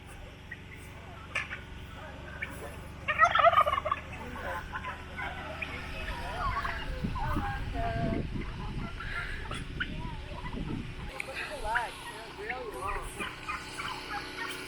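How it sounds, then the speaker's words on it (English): Turkeys on a Nova Scotia farm homestead gobble in a brief loud burst, with scattered fowl calls and rustling around them and people talking throughout. "Looks like the turkeys found us."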